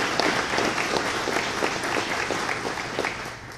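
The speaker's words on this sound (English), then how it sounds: "Let's give Dr. Kelly a round of applause for that." An audience at a Brownwood State of the City address claps for a local doctor, a full, sustained round of applause with distinct individual claps standing out, loud and near, slowly tapering toward the end.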